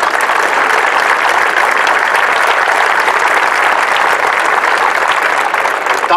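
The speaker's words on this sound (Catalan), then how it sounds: "Per tant, també un aplaudiment per totes aquestes entitats que s'hi sumen." Sustained applause from a rally audience at a unity event in Vic, Catalonia, supporting the Yes vote in a referendum; dense, steady and loud throughout without a break.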